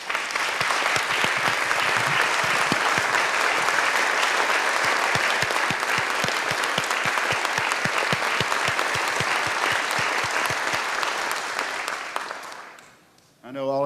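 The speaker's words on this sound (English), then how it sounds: "Well, let's give a round of applause." A large audience gives a sustained round of applause at a school event honoring a guest, dense steady clapping lasting over ten seconds before tapering off abruptly near the end.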